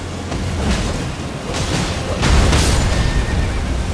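A horse neighs loudly through dense, rumbling Elden Ring game noise, its whinny rising and falling over booming effects.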